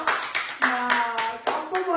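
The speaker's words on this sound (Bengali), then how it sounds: "সবাই হাততালি দিচ্ছে দেখো" Family members clap hands together at a home birthday celebration, a run of sharp, close claps in loose rhythm mixed with a voice and other talk.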